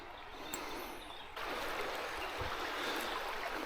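Creek water flows along a trout stream in a steady rushing babble, moderately close, growing slightly fuller partway through, with no talking.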